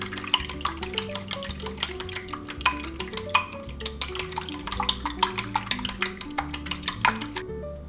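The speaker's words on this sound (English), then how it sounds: "Crack the eggs into a bowl. Beat them well until smooth." Eggs beaten briskly in a bowl, a run of quick, rhythmic clinking strokes close by over a steady tonal musical backdrop, with no talking.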